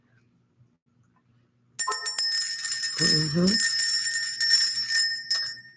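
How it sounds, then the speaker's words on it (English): Bright metallic bell rung near the microphone after a silent start, its high shimmering ring sustained and decaying over several seconds while a brief murmured sound from a person passes underneath. "Let's ring the bell."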